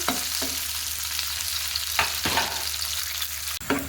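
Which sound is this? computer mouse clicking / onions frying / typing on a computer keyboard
onions frying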